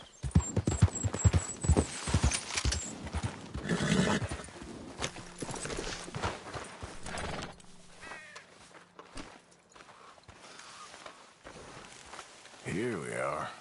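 A horse galloping in Red Dead Redemption 2, with quick clip-clop hoofbeats loudest at the start and a neigh. The pace then thins to scattered steps under game sounds, and voices talk briefly.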